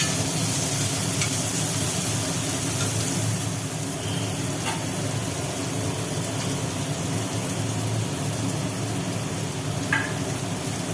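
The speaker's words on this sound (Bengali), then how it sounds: "সোয়াবিনগুলো দিয়ে দেওয়া হলো সোয়াবিন ভাজা হচ্ছে" Boiled soybean chunks fry in hot oil in a kadai, giving a dense, even sizzle throughout with occasional sharp clicks of stirring.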